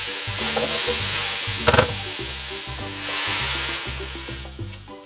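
Potatoes, carrots and peppers in a pot for a vegetarian tajine sizzle and hiss steadily as water goes in and the mix is stirred, with a brief clatter partway through and a steady bubbling wash.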